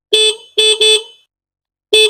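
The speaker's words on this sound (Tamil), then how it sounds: "ஹாரன் வந்து நம்ம செக் பண்ணி பார்க்கணும்." A parked scooter's electric horn is pressed in short loud blasts close up: two quick honks, a longer one, then a pause before another beep.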